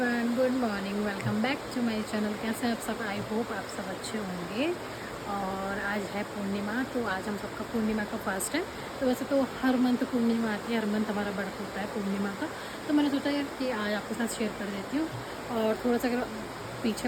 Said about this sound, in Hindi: बैकग्राउंड में आवाज़ आ रही होगी तो वो पानी की आ रही होगी,